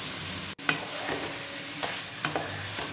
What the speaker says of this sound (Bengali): চিকেনটাকে এই মশলার সাথে বেশ কিছুক্ষণ সময় ধরে কষিয়ে নিতে হবে